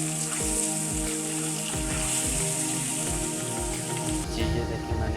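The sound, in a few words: eggs frying in a pan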